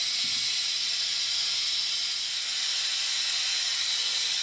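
A hose suction-pumping transmission oil out of the pan of a Jeep JKU with a NAG1 transmission, a steady, close, broadband hiss that runs unbroken throughout.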